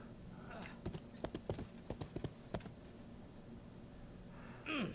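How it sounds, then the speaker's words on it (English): Horse hooves clip-clop on the ground in the RIFT video game, a quick irregular run of light hoof strikes that fades out, with a brief breathy sound at the end. "Back on my horse."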